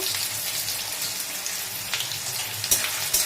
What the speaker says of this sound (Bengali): এবার এটা ভালো করে একটু ভাজা করে নেব যাতে টমেটোর তাড়াতাড়ি গলে যায়